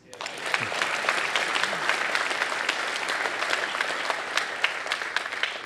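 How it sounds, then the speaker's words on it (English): A large audience at a university presidential inauguration ceremony applauds. The dense, sustained clapping rises quickly and holds steady and loud throughout, with occasional sharper individual claps standing out. "that deserves an applause."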